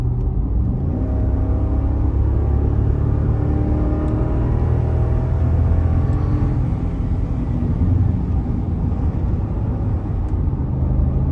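A 2021 Ford F-350 pickup with a 6.2L engine and 10-speed transmission, heard from inside the cab while driving: a steady, loud low engine drone and road rumble with no talking.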